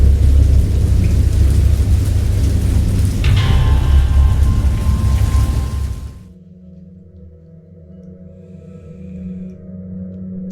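Heavy rain pours with a deep rumble of thunder in the video game Dagon, loud and close, then the downpour abruptly cuts away to a quieter low drone.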